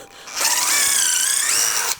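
A DeWalt power drill whines at high speed as the bit bores through material, steady for about a second and a half before spinning down.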